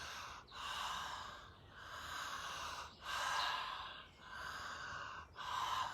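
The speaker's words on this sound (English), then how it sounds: "Deep, full breath." Slow, deep breaths in a chakra breathing meditation, heard close and quiet as a steady rhythm of long airy inhales and exhales, roughly five full cycles with brief pauses between, no talking.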